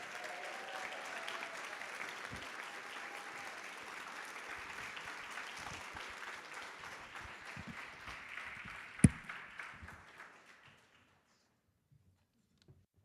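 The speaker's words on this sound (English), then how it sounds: "Let's give a huge round of applause." An audience at a philanthropy luncheon applauds a youth philanthropy award winner, broad sustained clapping that holds steady, then thins out and stops, leaving near silence.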